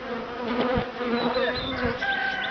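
Honeybees swarm loudly from an opened mother colony hive, a dense, continuous close-up buzz with individual bees droning past the microphone.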